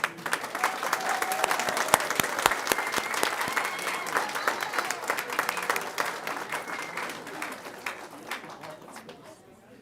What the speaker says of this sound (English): Okay, audience, one more big applause for all these students.